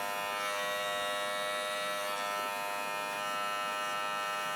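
An electric hair trimmer buzzes steadily and close up while cutting a man's or boy's hair at home, a constant even drone with no voices.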